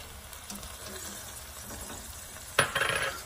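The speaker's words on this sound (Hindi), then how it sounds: "टमाटर डाल के हमें 2 से 3 मिनट के लिए इसे भून लिया" Tomatoes frying and being stirred into golden onions in a pan for dhaba-style bhindi pyaz, a soft steady sizzle with light scraping and a sharp clatter near the end.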